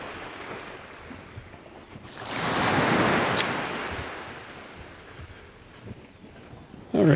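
Ocean waves wash onto a resort beach at Paradisus Río de Oro, a broad surge swelling then easing back under steady wind noise, with no one talking.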